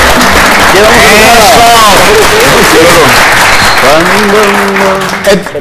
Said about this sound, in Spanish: ¡Se aplaude!